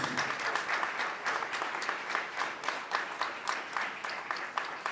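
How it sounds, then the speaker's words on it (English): An audience at the AFRIFF 2024 film festival award ceremony in Lagos breaks into sustained applause, many hands clapping at once in a dense, even wash that stays loud for the whole stretch. "A round of applause, please."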